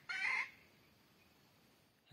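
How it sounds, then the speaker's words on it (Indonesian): A wild junglefowl crows once, short and fairly loud, during a hunt in the Indonesian countryside, then quiet outdoor ambience follows. "Di sana ada satu ekor ayam hutan."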